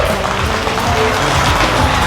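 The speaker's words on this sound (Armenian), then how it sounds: "իրայի կողմը թող ծափեր տան։" Wedding guests on the bride's side applaud together in a steady, dense wash of clapping that holds at full strength from start to finish, with no pauses or talk.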